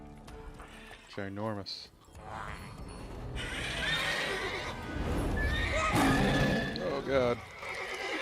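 Roach, a horse in The Witcher 3, neighs with a clear whinny early on, then hoofbeats and game noise build into a busy, loud gallop, with someone talking briefly over it.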